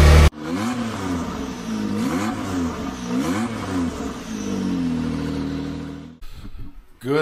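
A Can-Am Maverick R with an EVO tune and E85 upgrade kit revs hard in repeated rising-and-falling bursts, close and loud, before the engine note settles into a steady hold and then cuts off.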